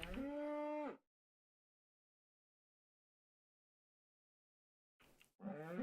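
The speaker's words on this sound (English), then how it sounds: "Mushroom cow." Two long low moos from a mushroom cow in a video game, one at the start and another after several seconds of silence, clear and close.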